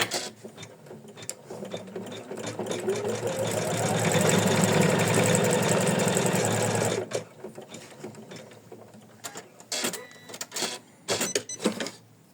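An embroidery machine stitches an applique tulip heart design with a rapid mechanical chatter that swells for about seven seconds. It then gives way to irregular clicks and short bursts of stitching.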